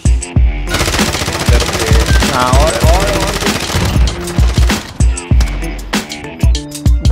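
Sharp, loud rifle shots from a KAR98 sniper rifle in Call of Duty Warzone on Rebirth Island crack out in quick succession amid game effects, with a bolt-action clack after several, while players talk over the action.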